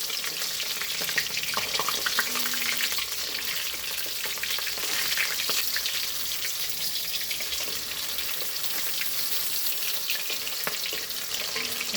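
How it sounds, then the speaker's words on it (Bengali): Pakoras fry in hot oil until reddish brown, a steady close sizzle with faint scattered pops and occasional clinks, no one speaking. "এটা লাল লাল করে এবার ভাজবো"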